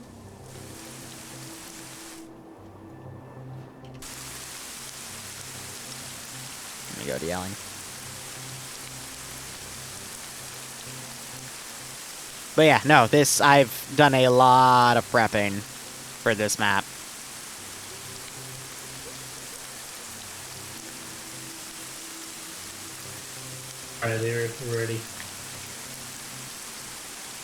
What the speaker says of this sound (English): Sorry for the rain, it happens on this planet